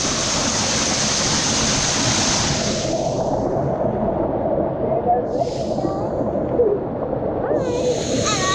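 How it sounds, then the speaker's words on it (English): A waterfall on the Gibb River Road in outback Australia rushes in a steady, loud, broadband roar close by, with a voice speaking briefly over it and the splashing continuing throughout. "You are in a waterfall."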